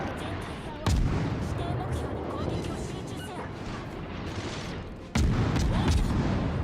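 Naval gunfire in the World of Warships game: two heavy broadband booms from ship batteries, one near the start and one near the end, over a continuous rumbling battle bed with distant explosions.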